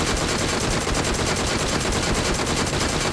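Rapid sustained automatic fire from the DP light machine gun in BGMI, a dense, loud, unbroken burst of rattling shots running the whole time with no talk.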